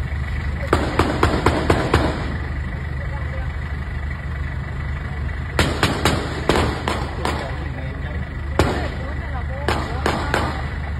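Gunfire from a shootout between robbers and police at a road junction in Phatthalung, Thailand: bursts of sharp cracks in quick clusters at the start, middle and end, heard at a distance over steady traffic and engine rumble, with people talking.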